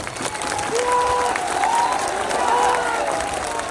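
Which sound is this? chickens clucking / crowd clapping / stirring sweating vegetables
crowd clapping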